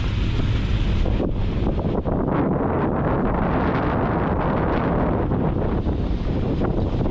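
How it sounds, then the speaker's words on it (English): Strong wind buffets the microphone in a constant low roar with gusty rumbles throughout, loud and close, with no clear voices. "windy out here."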